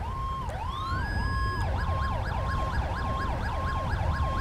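The default ambulance siren in the FiveM game wails in a fast, repeating up-and-down cycle, loud and close, with a rising sweep at the start before settling into steady, regular oscillations.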